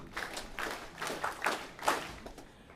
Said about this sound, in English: you may give him big Bougainville clap.